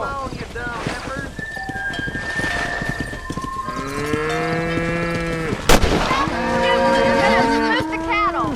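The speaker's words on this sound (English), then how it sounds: "Move the cattle." Cattle lowing repeatedly in a Red Dead Redemption cattle drive, long drawn moos overlapping one another, over clip-clopping hooves and a sharp crack, with someone speaking in between.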